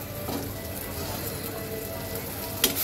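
Chopped tomato and green chilli fry in hot oil with masala for a chital fish curry, producing a dense, steady close-up sizzle with one brief clink near the end.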